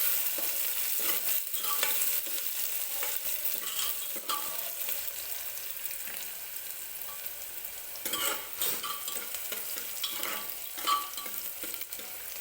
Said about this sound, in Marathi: कांदा व्यवस्थित आपल्याला गोल्डन रंग येईपर्यंत तेलामध्ये भाजून घ्यायचा आहे.